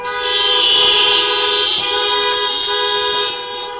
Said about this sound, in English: If you believe that, honk your horn.